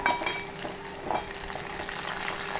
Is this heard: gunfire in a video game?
no